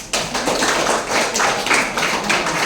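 Students at a school information session clap in a brief burst, scattered overlapping hand claps of moderate loudness with faint background chatter.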